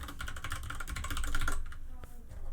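Rapid clattering keystrokes on a computer keyboard while code is entered, a steady run of close clicks for about a second and a half, then a few scattered taps, with a voice speaking over it.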